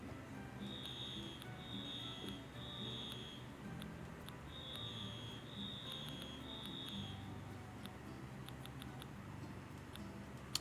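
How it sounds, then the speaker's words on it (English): A smoke alarm in the Animal Crossing: New Horizons game on Switch 2 chirps in repeated bursts of piercing high beeps, grouped in sets of three, over a faint steady background hum. "The smoke alarms have been going off at like 2 in the morning every night for the last week."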